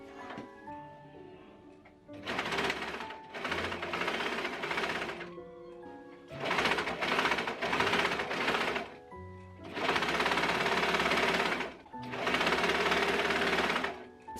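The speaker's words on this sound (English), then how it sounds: "to make this easy for myself, I am just going to overlock this" Overlocker serger sewing machine finishing the edges of bedsheet fabric, running in loud, steady bursts of rapid stitching separated by short pauses.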